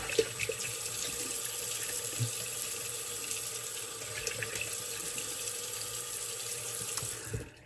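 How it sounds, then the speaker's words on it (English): Water runs steadily from a bathroom tap into a sink during rinsing after a shave, a constant close splashing flow with no talking. "let me rinse off here real quick"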